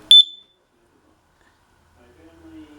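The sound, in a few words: smoke detector alarm beeping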